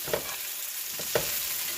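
Steady sizzling of ingredients frying in oil in a pan, with a couple of soft scraping stirs breaking through the constant hiss.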